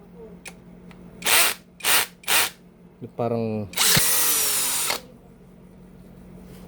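TZ Z90 rechargeable brushless drill spinning in several short bursts, then a rising whirr and a longer loud run before stopping, heard up close with brief speech nearby.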